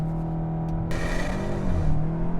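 A Cupra VZx with a $6,300 exhaust system pulls away on launch control at a track day, a short rising engine note with a sharp change partway through, heard from inside the car without talk.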